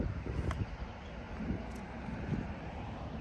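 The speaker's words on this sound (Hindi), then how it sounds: "अभी थोड़ा हवा आ रहा है, इधर हवा चल रहा है" Wind blowing in Al Mankhool Park: a steady, fairly quiet broadband rush with soft gusty swells that runs the whole time, and no voices.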